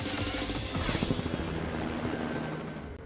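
A kit-built experimental helicopter's rotor chops steadily over a loud engine drone, continuous and close throughout.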